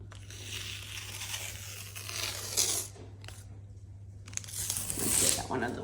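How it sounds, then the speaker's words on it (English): Painter's tape that has sat on a wall for a few days is peeled off in several drawn-out tearing, crinkly strips, close and fairly quiet over a steady low hum. "Last little bit, we'll just peel back some of the tape."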